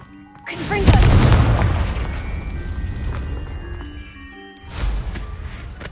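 Confringo fire spell from Hogwarts Legacy erupts in a loud, booming blast with a rumbling tail, followed a few seconds later by a second, smaller burst.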